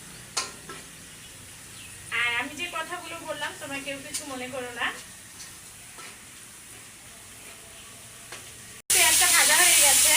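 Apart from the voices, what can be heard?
frying koi fish and eggplant in oil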